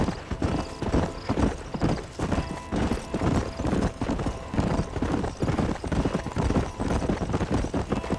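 Horse hooves trot at a steady, rhythmic clip-clop in the Western video game Red Dead Redemption, loud and continuous throughout, with the animal close by and no talk over it.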